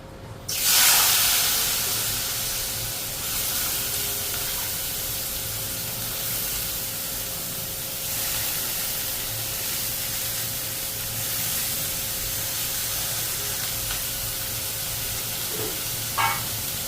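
Potatoes frying in a pan for a home breakfast give a steady, broadband hiss and sizzle that runs unbroken through the whole stretch, close and moderately loud, with one brief clink near the end and no talking.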